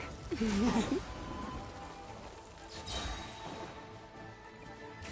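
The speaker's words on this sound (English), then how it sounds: "Let it rain!" Rain effect from a character's ability in the Genshin Impact video game: a steady wash of rain-like hiss, louder in the first second with a brief tonal swirl, then continuing at moderate level.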